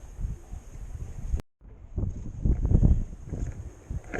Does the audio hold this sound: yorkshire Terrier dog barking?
no